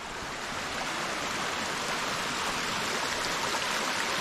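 Waterfall on the Camino del Peregrino in Córdoba, Argentina: a steady, even rush of falling water hisses continuously at moderate distance, unbroken and without voices.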